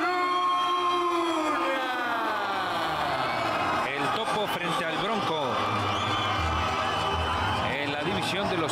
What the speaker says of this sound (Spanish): El aplauso para recibir en la esquina contraria.